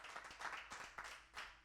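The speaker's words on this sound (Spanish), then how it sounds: "Dale un aplauso al Señor con todo su corazón." A church congregation claps together during a Sunday service, a faint, rhythmic patter of hands that pulses steadily with no voices over it.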